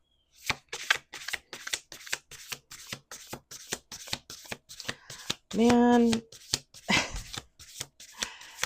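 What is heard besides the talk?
shuffling a deck of cards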